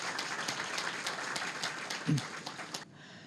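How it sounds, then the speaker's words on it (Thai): Steady applause from an audience, a dense wash of claps that continues for a few seconds before fading out. "ขอพลังเสียงปรบมือให้ท่านด้วยครับ"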